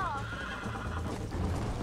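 A horse whinnies loudly and close in the Western video game Red Dead Redemption on PS3, its descending neigh opening over a steady rumble of game ambience and faint hoof clops.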